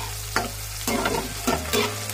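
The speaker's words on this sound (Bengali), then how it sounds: "পেঁয়াজটা কিন্তু আমার খুব সুন্দর করে লাল লাল করে ভাজা হয়ে গেছে।" Onion and chopped tomato fry in a pan, a close, steady sizzle interrupted by several scraping stirs of a spatula, moderately loud and without speech.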